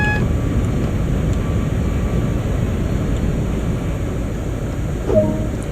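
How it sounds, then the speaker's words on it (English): A Class 43 HST train in Train Sim World, Great Western route, rumbles steadily at a loud, even level, with a brief squeal near the end as emergency brakes apply; no voices are heard. "Why did it apply my emergency brakes?"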